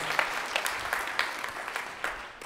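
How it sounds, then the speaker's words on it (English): Audience at a high school holiday concert applauding; a steady, fairly faint wash of clapping with a few sharper claps standing out, no voices over it. "You can clap right there."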